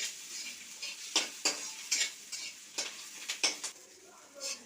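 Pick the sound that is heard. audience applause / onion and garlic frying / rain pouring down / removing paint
onion and garlic frying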